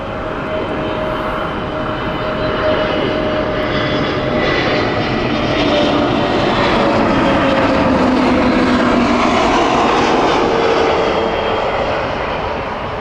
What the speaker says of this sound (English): Aer Lingus Dublin flight next, Airbus